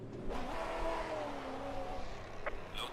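A GT4 race car engine idles in the Assetto Corsa Competizione sim with no pedals pressed, its tone drifting slightly up and down. The engine stays fairly faint and steady throughout, with a couple of brief clicks near the end.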